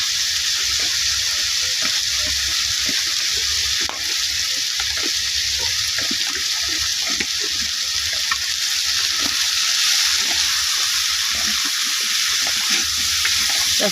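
Loud, constant frying hiss rises from a turmeric mixture in a pan, broken by the scrape and tap of a spatula stirring it, with no speech.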